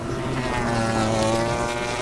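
MotoGP race motorcycles at the 2023 Italian Grand Prix make a steady droning engine whine with layered harmonic tones, carried from a distance across the track as an unbroken, moderately loud hum.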